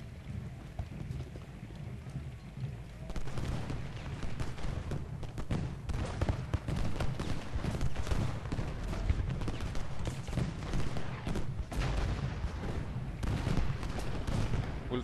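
Dense, continuous gunfire and artillery booms from a Civil War battle at Little Round Top in the strategy game Ultimate General: Gettysburg, rolling volleys and impacts filling the clip without letup, loud and busy throughout.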